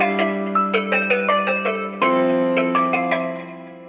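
Trap melodies layered over chord progressions, programmed in FL Studio, play together as a dense sustained synth loop with plucked melodic notes, a held low bass tone and a fuller shift partway through, fading slightly at the end.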